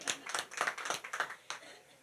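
Scattered applause for a gold medal winner, around a dozen quick, uneven claps spread over two seconds, fairly faint and close, with a bit of murmured talk underneath.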